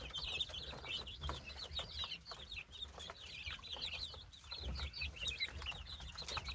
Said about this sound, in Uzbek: Bunda bunday kichkina o'zimizda joyda tuxum yo'nalishida olingan jo'jalar.